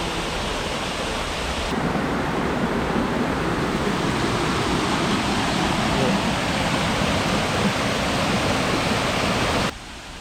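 Ozone Waterfall near Nagoya, Japan, pours as a steady, dense broadband roar, even and fairly loud throughout, in a rainy outdoor setting with no clear voices.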